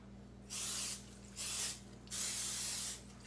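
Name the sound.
cooking spray sprayed on waffle maker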